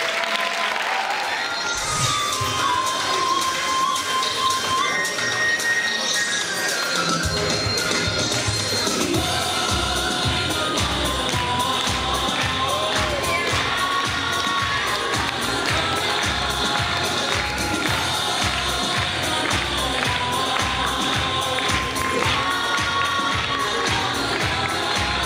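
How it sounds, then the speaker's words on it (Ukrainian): Loud, sustained audience applause with cheering fills a school concert hall, steady dense clapping that settles into a rhythmic unison beat partway through. "Ваші бурхливі оплески"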